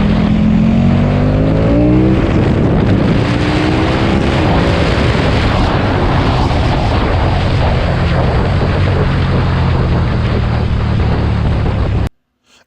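A KTM 1290 Super Duke R EVO motorcycle is being ridden, its engine loud and close under heavy wind rush, the pitch falling early on before settling into a steady roar that ends abruptly.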